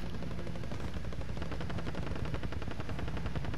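Sustained rapid machine-gun fire in the battle royale shooter Call of Duty Plunder, a dense, steady rattle of shots continuing loudly throughout without pause.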